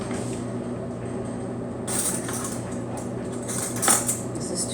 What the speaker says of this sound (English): Okay, so I'm gonna get me a little spoon.